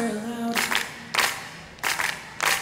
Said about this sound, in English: clap your hands real loud